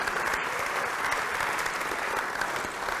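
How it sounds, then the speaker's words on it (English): An audience at an astronomy event gives a big round of applause, a thick, constant wash of many hands clapping that stays loud and even across the whole three seconds, with no talking. "Huge round of applause for their efforts in making all of this possible."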